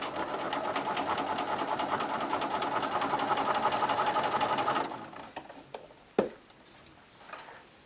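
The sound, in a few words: sewing machine stitching patchwork binding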